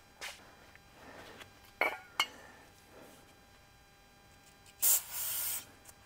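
Cleaner sprayed onto parts of a John Deere 430 tractor being split: a couple of faint clinks of the can, then one short, close hissing spray burst followed by a softer second spray.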